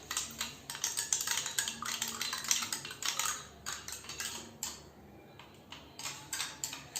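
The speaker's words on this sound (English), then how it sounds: "I will stir it continuously for 1 minute." Chalk and water are stirred in a glass, the spoon clinking rapidly and repeatedly against the sides in steady bright taps, with a short pause partway through before the stirring resumes.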